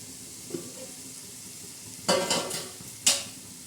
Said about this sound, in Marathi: आता हे चांगलं असं हलवून घ्यायचं म्हणजे पुलावाला सगळ्याला चव येते